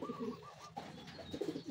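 Racing pigeons coo softly and repeatedly at close range in a loft, with low, murmuring calls overlapping one another and no voices.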